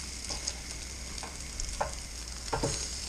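Onions frying in a pan for bear-shank burritos, with a steady close sizzle and several soft scraping stirs of a utensil, no voices.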